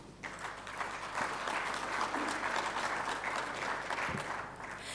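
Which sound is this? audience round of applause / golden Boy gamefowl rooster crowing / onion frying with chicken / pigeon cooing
audience round of applause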